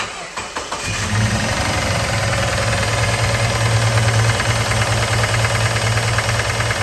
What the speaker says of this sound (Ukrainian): Послухаємо, як працює мотор.